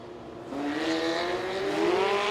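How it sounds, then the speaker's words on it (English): A Biley's Automart pace car leads a field of Legends race cars around Southside Speedway, engines droning and rising in pitch as a loud, steady pack of motors builds up close by. "Biley's Automart pace car is leading the field here"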